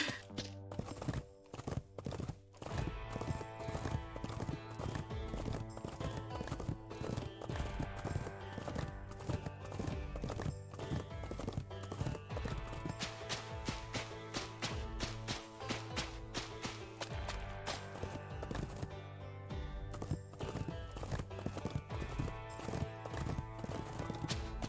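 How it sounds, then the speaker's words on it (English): Horse riding in the PC game Cowboy Life Simulator: steady clip-clop of hooves runs through the whole stretch, blended with dense, loud game music. "riding the horse has been my favorite thing in this game so far."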